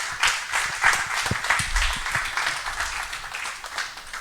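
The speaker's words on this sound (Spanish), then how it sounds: "Muy bien, un aplauso para los participantes," Audience applause for participants at a Spanish-language talk on the Gospels, a steady wash of clapping filling the room for about four seconds with some louder individual claps and faint voices mixed in.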